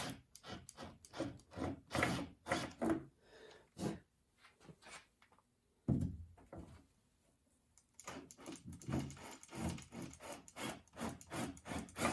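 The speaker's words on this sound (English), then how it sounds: "So let's go ahead and get those drilled out." Bolt holes filled with paint being drilled out on a 1968 Volksrod build, a steady close grinding rasp in long bursts, with a quieter gap midway before the drilling resumes, no voices.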